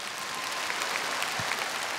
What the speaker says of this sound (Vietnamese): xin quý vị một tràng pháo tay cho cái áo mới của Thủy Dương